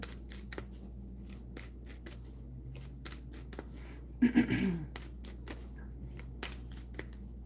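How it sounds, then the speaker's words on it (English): Tarot cards shuffled and drawn during a reading: one brief riffling flurry in the middle, surrounded by soft isolated taps and handling clicks in a quiet room with a low steady hum. "let's pull one more card"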